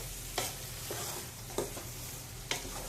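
Vegetables for a vegetable biryani being mixed in a pot, with a few distinct spoon scrapes over a steady low sizzle, close and moderately loud.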